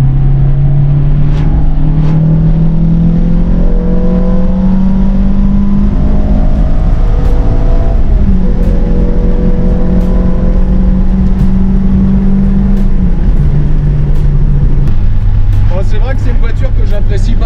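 A Renault Clio RS engine accelerating from inside the car, loud sustained engine tone climbing in pitch through several gear pulls with brief drops between shifts, steady road rumble underneath.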